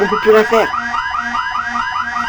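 A spaceship's main alarm in Elite Dangerous repeats a rising electronic whoop several times in steady rhythm, loud and close, with a voice over the first half-second.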